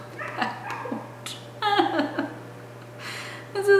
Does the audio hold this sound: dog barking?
yes